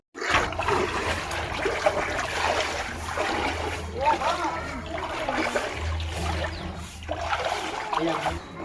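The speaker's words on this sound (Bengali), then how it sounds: "এই জল বর্ষার নয় বন্যার জল" Knee-deep floodwater in a flooded village in Murshidabad, steady sloshing and splashing close by, continuous throughout with voices faintly underneath.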